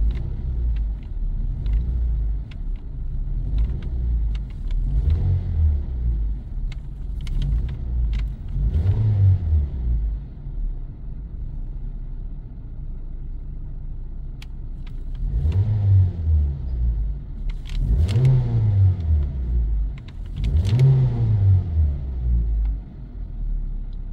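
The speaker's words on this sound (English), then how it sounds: "Give it a couple of RPMs." A Mazda 3 with a low idle fault and P0506 code, its engine rumbling steadily nearby and rising in several repeated revs that climb and fall back, with no talking.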